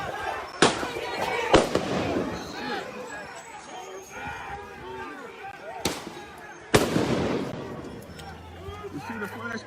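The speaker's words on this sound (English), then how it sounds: "You see the flashbangs?" Flashbang stun grenades go off at night outdoors, several sharp loud bangs spaced apart, with a crowd and people talking throughout.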